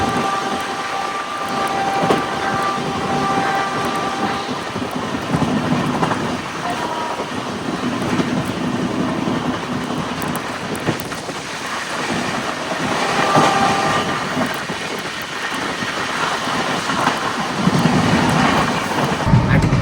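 Inside the moving Kerala Sampark Kranti Express, a loud, continuous rumble of wheels and rattling carriages rolls on steadily, swelling and easing slightly over the ride.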